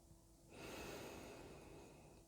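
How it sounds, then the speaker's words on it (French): Inhaling through the nose during a calm sophrology breathing exercise, a single steady breath in lasting about two seconds, soft and close with no talking. "On inspire par le nez."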